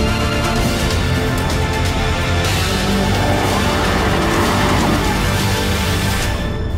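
Porsche 718 Boxster sports car driving, a continuous engine and road noise with shifting tone and a brief tire squeal, loud and close with no talking.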